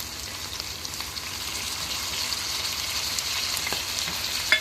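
Gongura leaves fry in a pan for gongura chicken, giving a steady, close, crackling sizzle throughout with a few sharper pops and a clatter at the very end.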